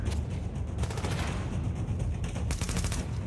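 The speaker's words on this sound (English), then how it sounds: "Shooting at me over here." Gunfire in The Division, a rapid burst of automatic shots with dense repeated cracks that stays close and loud throughout, with no talking.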